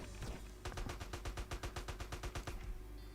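Rapid automatic gunfire in the mobile online version of GTA San Andreas rings out as a steady, evenly spaced stream of about a dozen sharp shots over a continuous game background, fairly quiet overall.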